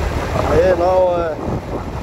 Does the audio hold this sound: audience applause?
no